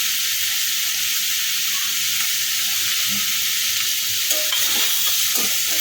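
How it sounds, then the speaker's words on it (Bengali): Constant loud sizzling and hissing from a hot pan of paneer fried rice with cashews and raisins, with light scraping and stirring sounds breaking through near the end. "ভালো করে নেড়ে নেব"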